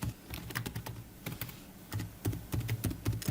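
Someone types a name on a computer keyboard, a soft, quiet run of irregular key clicks and taps in short bursts, with no speech.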